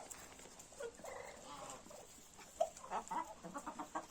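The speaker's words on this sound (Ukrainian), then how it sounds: "Випустила птицю, ганяють, доганяють." Chickens cluck softly in a noisy outdoor setting, with scattered short clucks growing more frequent toward the end.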